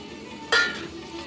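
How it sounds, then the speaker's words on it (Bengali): Cut potatoes go into hot oil in a pan after aubergine has been fried, setting off a sudden loud sizzle that fades quickly to a softer steady crackle. "এবার এই তেলে আলুও দিয়ে দেবো।"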